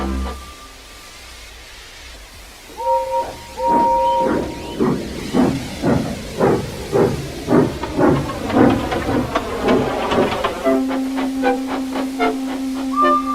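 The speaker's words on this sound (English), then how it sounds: "Gordon came clanking past, hissing rudely" A steam locomotive clanks past with a steady, rhythmic chuffing beat and loud hissing of steam, whistle-like tones ringing out at the start and a sustained hum near the end, all close and prominent with no talk.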